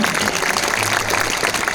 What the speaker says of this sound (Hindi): जोरदार तालियों से एक दूसरे का, सबका अभिनंदन करें